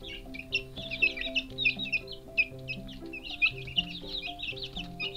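Chicks cheep in quick, high, overlapping bursts at feeding time on birdseed, a busy close chorus over a soft background of steady tonal sounds.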